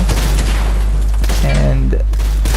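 Loud Fortnite gunfire bursts together with game sound effects, up close, with a voice talking over the shots.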